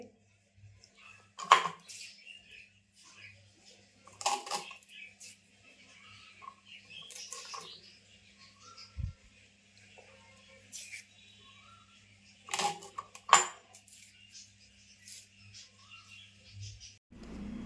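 Drumstick pods are cut into pieces with a knife in a quiet kitchen, producing a handful of sparse, crisp snapping cuts with long silent gaps between them.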